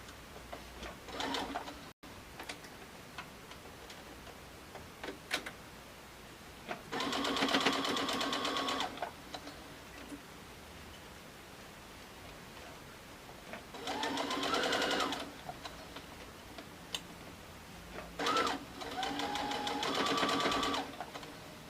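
A sewing machine stitches a pincushion in several separate bursts of rapid, rattling whirring, with quiet pauses between runs and no talking.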